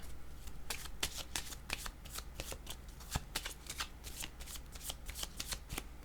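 Tarot cards are shuffled by hand in a quick, continuous riffle of crisp flicks and slaps, close and steady over a low background hum, with no talking.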